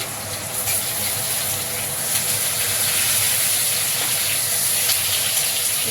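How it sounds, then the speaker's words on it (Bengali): Tomatoes drop into hot oil in a pan, setting off a loud, continuous hiss and sizzle that holds evenly, with no voices. "এবার টমেটোগুলো দিয়ে দিচ্ছি"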